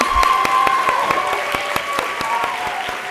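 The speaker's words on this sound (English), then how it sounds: "Let's give everybody a round of applause." A room full of people claps at a university pinning ceremony at ASU in 2015, with loud, close, even applause with distinct individual claps throughout and a steady tone running beneath it.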